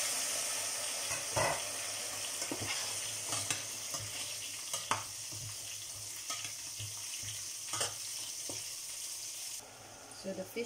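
Milkfish (pritong bangus) frying in a pan, a steady bright sizzle running throughout with occasional sharper pops and clatter of stirring, close and fairly loud, no talk.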